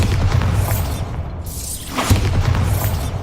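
A Bombarda spell in Hogwarts Legacy blasts with a loud, close booming explosion and a shattering crash, a sweeping whoosh rising through the middle before a second heavy impact rumbles on.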